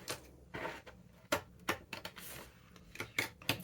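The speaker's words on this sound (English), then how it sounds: "I'm just going to cut this with my scissors" Scissors snipping through paper scraps for a patchwork journal cover, a series of close, crisp cuts in an irregular rhythm with short pauses between them.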